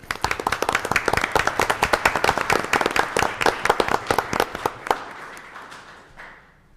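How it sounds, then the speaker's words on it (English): A round of applause at a county supervisors' meeting, dense close clapping for about five seconds that thins out and fades to near silence. "Let's give a round of applause, maybe."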